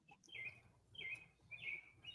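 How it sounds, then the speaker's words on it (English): Several short, bright bird chirps in a repeating pattern, faint and somewhat distant, with a quiet low background hum and no talking. "I heard bird chirping"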